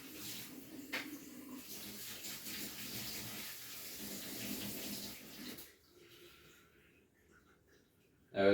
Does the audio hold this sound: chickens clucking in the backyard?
no